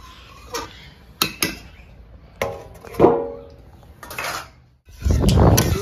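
A lid clanks onto a metal cooking pot of chicken chaap after a cup of water is added, with sharp clattering knocks and scrapes in a short, irregular burst, close by.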